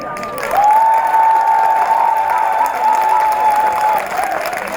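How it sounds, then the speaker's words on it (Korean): An audience of officials claps during a Buddhist temple pilgrimage event at Ssanggyesa in Hadong, with sustained, dense applause lasting several seconds over a steady whistling tone. "박수 받아보기는 처음입니다"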